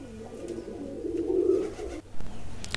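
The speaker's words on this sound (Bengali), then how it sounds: "এই যে আমার ম্যাচিং করা গিরিবাজ কবুতর দেখতে পাচ্ছেন" Jalali and Giribaz pigeons coo close by in a loft, one steady, low, throaty coo swelling in the middle and breaking off near the end, followed by a short bump of handling noise.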